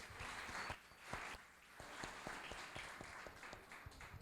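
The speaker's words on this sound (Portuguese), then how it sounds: "Palmas para eles." A church congregation applauds steadily for several seconds during a celebration service, a dense wash of many hands clapping with a few sharper individual claps standing out.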